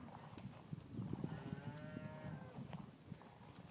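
Hereford cattle, two- and three-year-olds off one Nebraska ranch, moo in a long drawn low call amid steady farmyard noise, fairly distant and alone.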